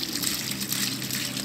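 Irrigation water flows into a field, a continuous hissing, splashing rush that stays steady and fairly close, with no clear speech over it.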